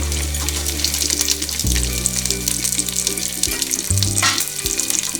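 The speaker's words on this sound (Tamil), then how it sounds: "பல்லாரி வெங்காயம் 3 வெங்காயம் போட்டு வதக்கணும்" Continuous loud sizzling from a hot pan as three large onions fry until golden for ghee rice, with a low hum running beneath throughout.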